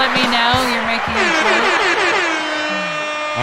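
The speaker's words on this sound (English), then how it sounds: "I have to flow the air horn so she knows I'm joking." An air horn blares in a steady, loud, brassy blast lasting a few seconds, its pitch wavering slightly and tailing off toward the end.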